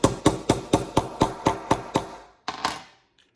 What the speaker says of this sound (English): And once you finish that hammering,